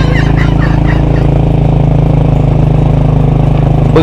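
A four-stroke motorcycle engine labours uphill on a mountain track, giving a loud, steady, throbbing drone close to the microphone with a constant low pulse under faint background noise.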